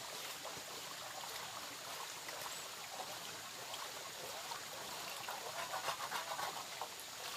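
A mountain stream runs in Ha Giang, a faint, even rushing hiss that holds steady throughout, with no voices over it.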